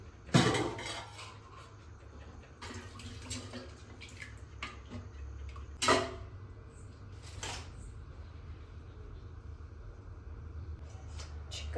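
Food is moved from a big vessel into a pressure cooker in a home kitchen, with scattered metallic clinks and scrapes of utensils against steel pots, fairly faint, with brief talk.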